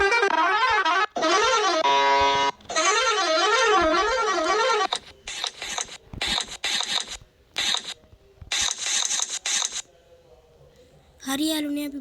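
Musical bus horn being fitted and tested, a loud warbling multi-tone melody played in long bursts, then a series of short choppy honks stopping and starting, ending with another warbling blast.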